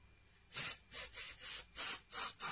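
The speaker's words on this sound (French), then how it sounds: "Et alors, la bombe de neige." Artificial snow sprayed from an aerosol can onto a Christmas table centrepiece, six short bursts of close hissing spray in a regular rhythm separated by brief pauses.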